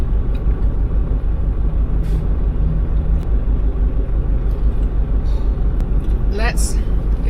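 A Toyota Land Cruiser drives along a straight road, and its steady, close engine and road rumble fill the whole stretch. A brief rising whine comes near the end.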